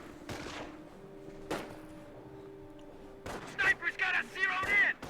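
Rifle gunfire from the World War II strategy game Company of Heroes: a few separate sharp shots spaced over several seconds, then shouting voices with more bangs underneath.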